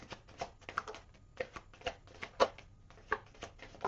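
Tarot cards being shuffled and drawn by hand, a quick irregular run of soft papery slaps and flicks close up, with no voices.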